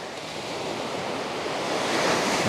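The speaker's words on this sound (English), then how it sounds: "Hey, you can see those waves crashing over there." Ocean waves crash on the rocky Costa da Morte shoreline in Galicia, Spain, a loud, steady surf roar mixed with wind that swells slightly toward the end, with no talk.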